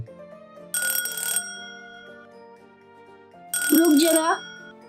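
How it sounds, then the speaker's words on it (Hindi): A telephone rings in a home scene, two separate bursts of bright electronic ringtone with a gap of near-quiet between them, the second trilling and warbling, loud and clear over a soft background music bed. "देखो तो इस टाइम किसका फोन है"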